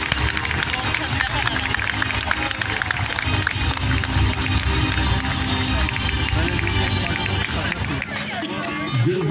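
A gala-night audience applauds continuously as Hüseyin Eroğlu is welcomed to the stage, a thick, sustained clapping mixed with crowd murmur and cheering that holds steady and fades slightly near the end.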